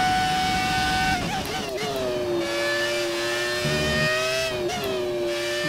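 F1 car engine from the F1 2018 video game screams at high revs, its pitch dipping and climbing through gear shifts, loud and close, with a voice speaking over it at times.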